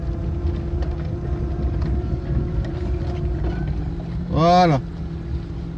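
A car engine with a manual choke runs with a steady low idle, then gives a brief rising rev near the end; one short spoken word is heard.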